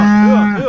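Cattle mooing as suckler cows and calves are moved to new grazing: one loud, close, sustained low moo with a steady pitch, then a second shorter call that bends and falls.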